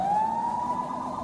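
An emergency siren wails steadily, its pitch sweeping slowly upward, loud and fairly close, with no voices over it.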